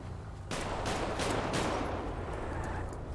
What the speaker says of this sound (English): that's the police shooting at the homies